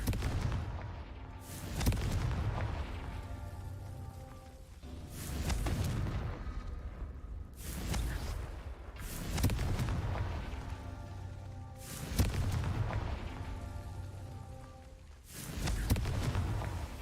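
Confringo blasting spell fired repeatedly in Hogwarts Legacy, each cast a loud booming explosion with a crackling burst, about six blasts spaced roughly two seconds apart over a rumbling game background.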